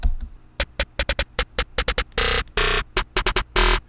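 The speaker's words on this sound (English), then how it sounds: "Snare roll sounds like this." A snare roll in a programmed hip-hop beat fires rapid, punchy hits that speed up into dense buzzing bursts, loud and dry, with no voices.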